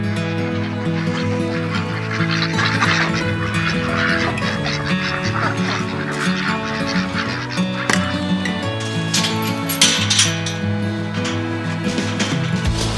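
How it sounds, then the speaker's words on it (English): Ducks and geese honk and quack loudly and continuously at close range while being fed radish tops, the calls overlapping in a busy, rhythmic chorus. "I guess the ducks want some too."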